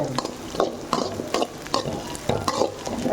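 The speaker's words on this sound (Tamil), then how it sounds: "எல்லாம் சேர்ந்து நல்லா வதங்கிடுச்சு." Okra gravy sautés in a pan while a spoon stirs it, giving regular scraping strokes about every half second over a constant frying sizzle, close and clear.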